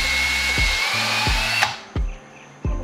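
Power drill driving a screw through webbing into a wooden kayak stand, whirring steadily before several short, loud bursts of the drill, close up.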